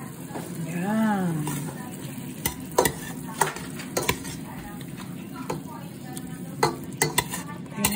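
Shrimp cooking in a pan with a steady sizzle, overlaid by sharp utensil clicks and pan knocks; a brief voice-like tone sounds near the start.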